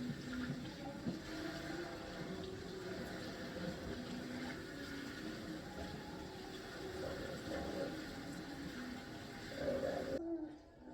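Water runs steadily in a continuous, hissing stream, faint and even, cutting off abruptly at the very end.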